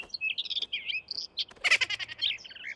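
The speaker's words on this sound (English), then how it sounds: "a couple low-life, filthy mockingbirds doing clogging up my chimney" Cartoon mockingbirds chirp in a chimney, a busy run of high, warbling tweets and trills across the whole stretch, with a denser burst of calls near the middle, no talking.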